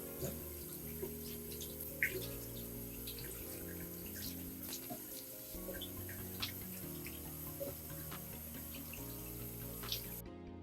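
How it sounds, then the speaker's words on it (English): Warm water runs from a bathroom tap in a steady, faint, continuous stream for about ten seconds, with no talk. "I'm going to have the water turned on to warm water"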